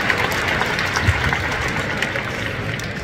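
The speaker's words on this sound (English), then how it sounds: "please give him a round of applause" Audience applause at a business conference, a steady wash of clapping from a crowd that fills the clip evenly at moderate loudness, with no break or clear speech over it.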